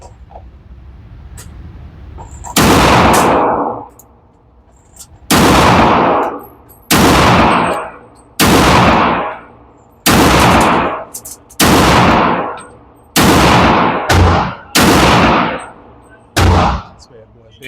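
A Tisas 1911 pistol fires about a dozen loud, sharp shots at range targets, spaced irregularly roughly a second apart, some in quick pairs.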